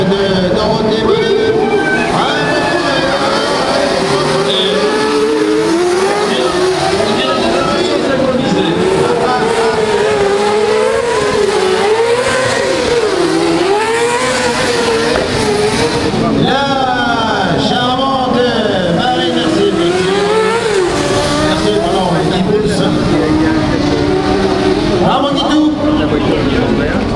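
Autocross race cars at Faleyras in 2011, engines revving and screaming as they accelerate and change pitch, loud and continuous, with a commentator talking over the racing throughout.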